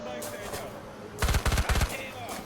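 Rapid automatic gunfire from the IGI 2 video game, three tight loud bursts in the middle of the clip over a low game ambience.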